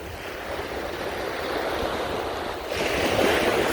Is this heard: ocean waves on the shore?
yes